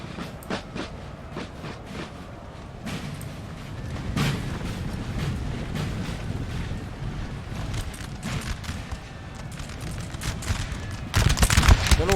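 Musket volleys crackle across a Napoleonic battlefield in Napoleon Total War, a dense, continuous rattle of distant massed fire with sharper, nearer bursts standing out, and a louder flurry near the end.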